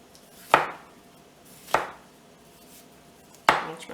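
A knife chops red, yellow and orange bell peppers into strips, three sharp separate cuts against a cutting board with quiet pauses between them.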